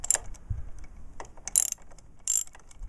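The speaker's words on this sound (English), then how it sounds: "To do the first bit, it's 10mm socket or spanner" A 10mm socket wrench ratchets in short clicking bursts as it loosens a nut on a Yamaha FZS600 motorcycle, heard up close with no talking.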